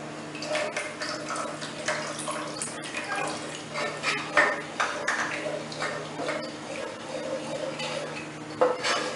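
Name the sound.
adding milk to gravy in pan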